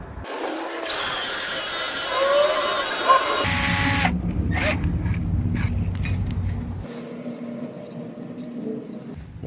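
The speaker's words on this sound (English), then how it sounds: "Use the drill on a low speed." A power drill on low speed whirs steadily while honing a car's brake wheel cylinder, its high whine shifting pitch as it works back and forth against metal, close and loud, then settling into a lower grinding hum.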